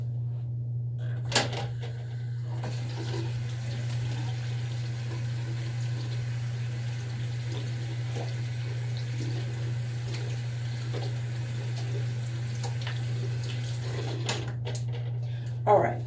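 Water runs steadily from a tap as hands are washed. The continuous flow carries on under a low mains hum, with a few clicks and knocks near the start and the end.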